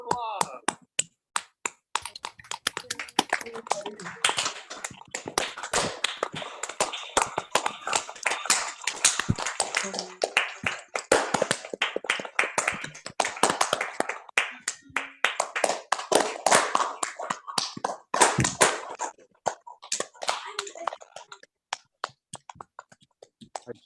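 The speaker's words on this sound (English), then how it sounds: "Round of applause." Applause from a school assembly for 4th and 5th graders streamed over Zoom, a steady crackle of many hands clapping for about twenty seconds with no pause.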